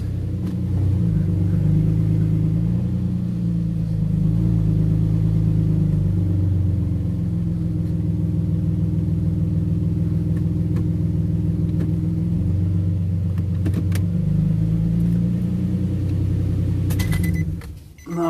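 A 2007 Nissan Xterra engine running steadily as it is taken through the transmission gears, a close, continuous low rumble with subtle shifts in pitch and a few small metallic clicks before it cuts off at the end.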